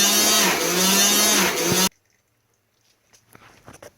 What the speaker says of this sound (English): after a while it got into a Suds lock situation where the pumping action changes.